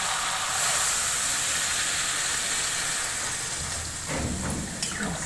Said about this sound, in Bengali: আবার এবার আমি এতে জল দিয়ে দেবো